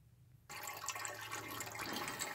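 Fluid gushes steadily from a disconnected hose into a drain pan under a 2008 Passat 2.0T, starting abruptly and pouring as a close, continuous splashing rush.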